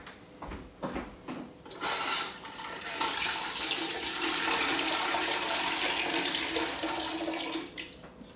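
Hot water pours from a kettle for steaming a Stir-Up Sunday pudding, a steady close rushing splash lasting several seconds after a few brief knocks, with no talking.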